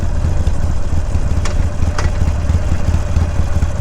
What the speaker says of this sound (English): Sound of my Harley shifting, downshifting.